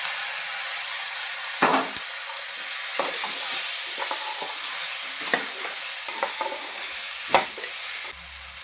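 Raw mango pieces stir-fried in a pan for a mango curry, with a steady sizzle of hot oil under repeated scraping and clacking of the spoon against the pan, close and continuous.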